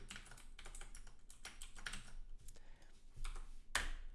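Code being typed on a computer keyboard: quick, irregular bursts of key clicks running steadily throughout at close range, with a sharper clack near the end and no talking.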